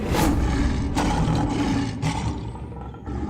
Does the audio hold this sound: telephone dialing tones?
no